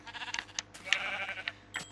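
Sheep in the video game Minecraft bleat in a series of short, wavering cries, loud and close, with a few quick bleats tumbling over one another.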